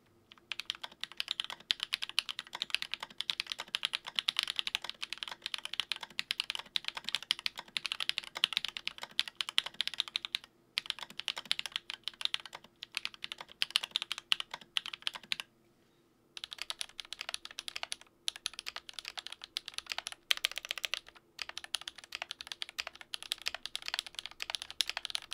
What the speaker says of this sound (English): Lubing makes a large difference in the sound of the switches, and I like them better